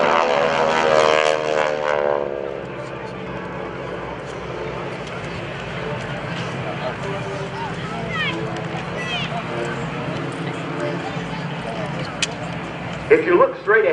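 Propeller aircraft of the GEICO Skytypers team fly at a 2011 Rhode Island Air National Guard open house airshow, with a loud, steady engine drone that holds throughout as a crowd and announcer talk over it.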